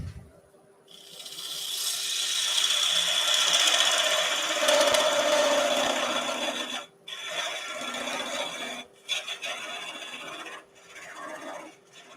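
A wood lathe turns a yew flower vase, with a steady broadband rasp of the tool cutting the spinning wood. The sound runs continuously for about seven seconds, then breaks into shorter bursts with brief gaps as the cut is stopped and restarted.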